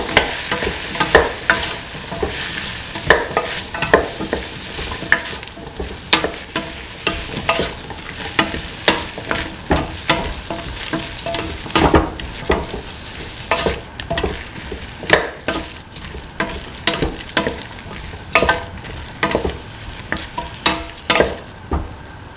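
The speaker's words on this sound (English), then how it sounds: "Mix in the winter melon ashwood pieces." Winter melon (ash gourd) pieces stirred in a frying pan for an okra and coconut milk stew, with steady scraping and clattering strokes over a continuous sizzle, close and fairly loud throughout.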